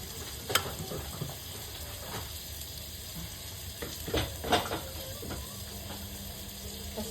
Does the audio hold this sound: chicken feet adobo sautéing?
yes